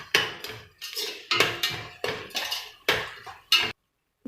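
Onion and ginger garlic paste sautéed in a pan for mushroom kuzhambu: a run of six sharp spatula scrapes and clanks against the metal pan, evenly spaced and close, then silence.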